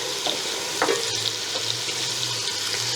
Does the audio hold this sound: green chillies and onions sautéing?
yes